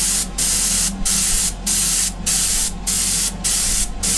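An airbrush sprays base coat onto a flaking clay Greek-style vase in seven short, evenly spaced bursts of close, crisp hiss separated by quiet pauses.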